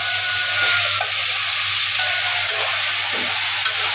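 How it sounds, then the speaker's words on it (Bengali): Taro stolons being stirred through a spice mix as they fry in a pan, giving a steady hiss of sizzling with faint stirring under it, close and continuous, with no talk. "লতিগুলা মশলার মধ্যে দিয়ে সম্পূর্ণ নাড়ায় চাড়ায় নিলাম"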